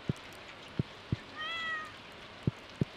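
A short cat meow from the video game Stardew Valley rises and falls once in the middle, alone, amid soft rhythmic thuds of in-game footsteps or tool taps.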